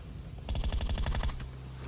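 A rapid burst of automatic gunfire in a video game, about a dozen quick shots in a steady rhythm, sharp and mid-distance, then fading back to a low background drone.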